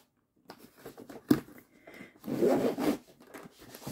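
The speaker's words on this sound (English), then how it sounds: "Ooh, really sturdy zipper." A sturdy zipper on an ArtDot storage case being pulled open, a quick rasping zip followed by a longer, louder dragging zip run, close and clear with soft handling noises around it.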